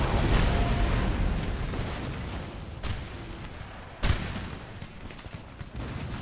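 Cannon and artillery fire in a Napoleon: Total War battle during the Italian campaign: a dense, rumbling din of distant guns, with a sharp, heavy boom standing out near the middle.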